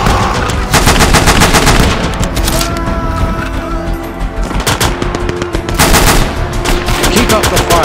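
Intense gunfire in the video game Call to Arms: Gates of Hell during a 1940 Dunkirk battle, with loud sustained machine-gun bursts, rapid shots and booming blasts filling the whole stretch.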